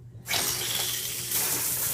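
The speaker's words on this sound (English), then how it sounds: "I've got a leak in my shower head here" Water suddenly gushes from a leaking shower head when the tap is turned on, a loud, close, steady hissing spray that carries on without a break and no talk.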